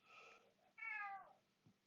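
A cat meows twice, a short call followed by a longer, rising-then-falling meow, fairly quiet in an otherwise still room.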